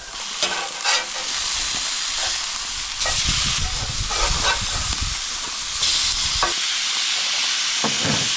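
Food on a Coleman Road Trip 285 propane grill over medium heat sizzles loudly as it is flipped, with surging hissy bursts and scraping between quieter stretches.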